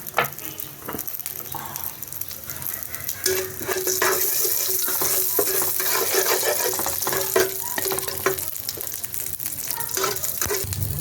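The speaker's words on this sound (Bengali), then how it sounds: "কড়াইতে তেলটা গরম হয়ে গেছে এখন শুকনো লঙ্কা তেজপাতা দিলাম পাঁচ ফোড়ন দেবো" Dry red chillies, bay leaves and whole spices crackle and sizzle in hot oil in a kadai for a fish and broccoli curry, a steady close frying hiss that grows louder partway through, with occasional utensil clinks.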